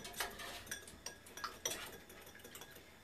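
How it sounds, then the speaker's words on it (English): A fork whisks sauce ingredients in a bowl, producing quiet, rapid clinks and taps against the dish in an irregular rhythm, with no talk. "whisking these together with a fork, and that will be a little sauce to drizzle on there."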